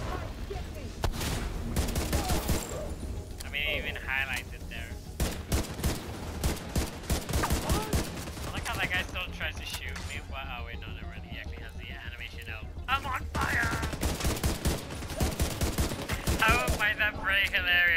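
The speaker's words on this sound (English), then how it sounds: "He's still shooting at me while he's on fire." Gunfire in The Division 2, an enemy on fire still shooting: repeated bursts and single shots crackle throughout, with quieter whispery voices and game ambience underneath.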